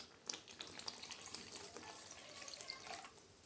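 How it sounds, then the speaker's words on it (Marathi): Water poured into a pan of cooking spice masala for a paneer masala gravy, a steady close splashing and trickling with a faint sizzle, continuous for a few seconds with no talk. "आता मसाल्याच्या भांड्यामध्ये पाणी घालून मी थोडंसं पाणी घालून घेते यामध्ये"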